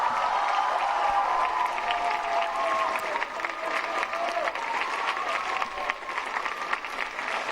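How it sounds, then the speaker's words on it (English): A large crowd at a papal event with Pope Francis in Singapore applauds and cheers, a dense, loud, continuous wash of clapping with voices mixed in throughout. "Can we give him a huge round of applause and cheer?"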